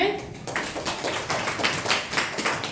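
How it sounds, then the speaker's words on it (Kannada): Children in a classroom clap together in a burst of applause, a dense run of sharp, overlapping hand claps lasting a few seconds at fairly close range. "ವೆರಿ ಗುಡ್ ಚಪ್ಪಾಳೆ"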